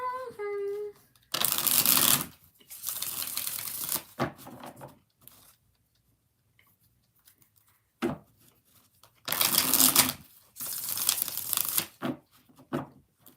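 A tarot card deck being shuffled in several loud riffling bursts separated by pauses, with a brief voice-like tone at the start.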